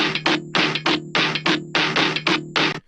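Dubstep drop built from a dial-up modem sample layered through a resonator and multiband compression: a loud run of choppy, stuttering electronic bursts with a steady high whine and low tonal hum, gated in rapid rhythmic chunks.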